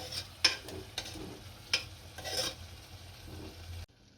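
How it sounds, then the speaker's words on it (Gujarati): Cluster beans with a little sugar fry in oil in a pan, giving a soft, faint sizzle broken by a few scraping stirs before the sound cuts off. "આને એકદમ કકડવા દઈશું તેલ છૂટું પડે ત્યાં સુધી"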